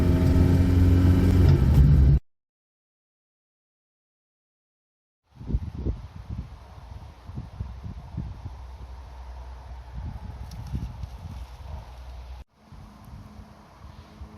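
A 1965 Hillman Super Minx, a left-hand-drive example, is out on a test drive. A loud engine and road rumble starts the clip, then a stretch of silence, then steady cabin drone with wind buffeting and a brief dropout near the end.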